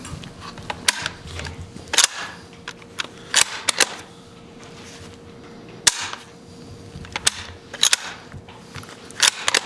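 A Mosin bolt-action rifle with a dry, slightly sluggish action being cycled close up, producing sharp metallic clacks and slams in scattered pairs and bursts over a quiet background, with no voices.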